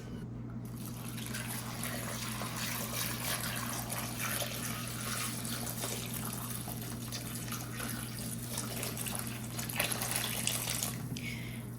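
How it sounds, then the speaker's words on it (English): Two quarts of apple juice poured into a cooking pot, a steady continuous splashing stream that runs unbroken at close range and ends with a brief final trickle. "I'm just gonna use the whole entire 2 quarts of apple juice"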